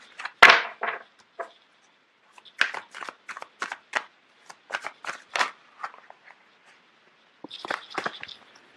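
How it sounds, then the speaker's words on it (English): Tarot cards being shuffled, with a burst of riffling near the start and a run of short, crisp card flicks and slaps, some cards popping loose, ending in a brief busier flurry; close and clear with no talk. "You have a lot of cards that are just popping out all over the place."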